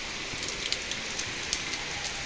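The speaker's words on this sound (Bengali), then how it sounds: "এই যে দেখেন কত বৃষ্টি হচ্ছে" Steady rain falls in a continuous soft hiss, with scattered drops tapping on a surface now and then; no one speaks.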